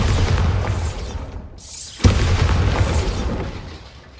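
A Bombarda spell blast in Hogwarts Legacy: a loud, rumbling explosion with a sharp crack near the middle and a crumbling debris tail that slowly fades.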